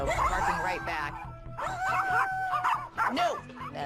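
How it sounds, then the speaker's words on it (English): A dog barks and yips in sharp bursts, mixed with whimpering, as it reacts to a passing house dog at close range. "barking right back"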